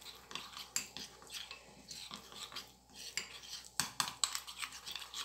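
Spoon stirring an oat face mask in a bowl, giving quiet, irregular scraping and clinking strokes against the bowl that repeat for several seconds at close range, with no voice.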